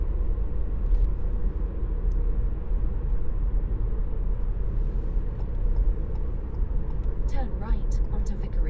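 A 2018 Ford Fiesta 1.0-litre EcoBoost petrol engine drones steadily from inside the cabin, a low rumbling hum with road noise throughout.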